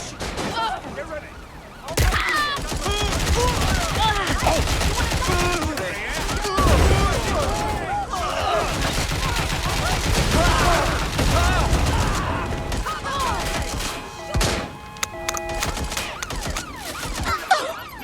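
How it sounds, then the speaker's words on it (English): Sustained gunfire fills a battle in the video game Watch Dogs Legion, dense bursts and volleys of shots running almost nonstop, loud and close, with shouted voices mixed in. "I heard gunfire."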